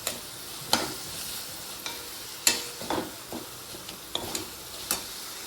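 Ground masala spices of turmeric, cumin and coriander powder stirred and frying in oil for a black chana curry, with soft sizzling under scattered scraping stirs of a spoon against the pan, close and moderately quiet.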